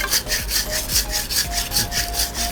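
Wood is rubbed with sand in rapid back-and-forth strokes, a close, gritty scraping repeated about ten times in a steady rhythm, with no talking.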